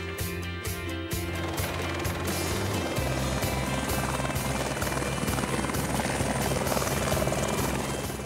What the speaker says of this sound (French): À défaut de trouver un avion, je décote un hélico